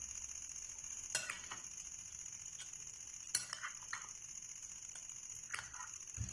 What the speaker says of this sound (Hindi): ये आलू और प्याज डालने के बाद इसे अच्छी तरह जो है ना मिक्स कर लेंगे